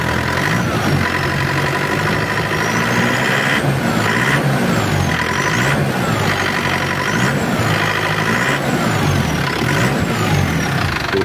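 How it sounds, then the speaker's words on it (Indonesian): Isuzu Panther pickup with a turbo diesel engine running steadily, its turbo whistling in repeated rising and falling sweeps over a loud, constant engine drone. "Untuk suara turbonya kita dengarkan."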